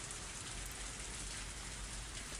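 Torrential downpour in the visual novel Higurashi: a dense, even hiss of heavy rain, quiet and unbroken throughout, with no voices.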